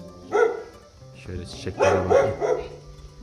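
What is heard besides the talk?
dog growling and barking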